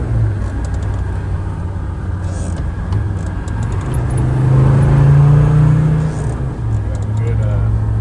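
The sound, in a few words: Land Rover Defender 90 Td5 driving, downshifting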